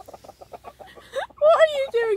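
Backyard pet chickens in their pen make a quick series of short clucks, followed by louder, drawn-out squawking calls, close by.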